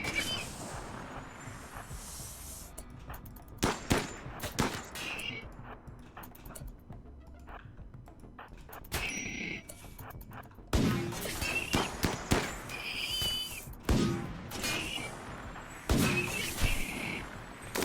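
Turret fire in the video game RimWorld: bursts of sharp cracking shots in clusters with pauses between, mixed with game noise and a voice talking over parts of it.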